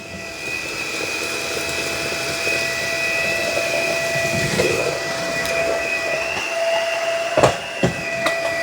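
A FurFinder 4052 upright vacuum cleaner runs on its low setting with a steady whine and airy drone, as a few bumps and clicks sound near the end.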